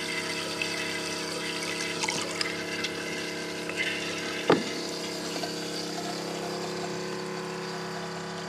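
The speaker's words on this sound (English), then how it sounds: "it's not like some of the other pumps that are super loud." A steady mechanical hum of an electric water pump filling a fresh water tank on a boat runs throughout with water flowing, plus a brief clunk midway.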